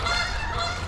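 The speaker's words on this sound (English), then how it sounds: "I got some geese friend with me today." Geese honk loudly and continuously at close range on a riverside foreshore during a mudlarking and bottle-digging outing, the calls overlapping into a dense flock chorus.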